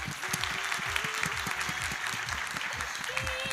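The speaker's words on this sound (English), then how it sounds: "I want you to welcome our general manager with a huge round of applause" A crowd at a Karachi conference opening session applauds to welcome the general manager, brisk many-handed clapping at an even level with a low rhythmic thumping of music beneath.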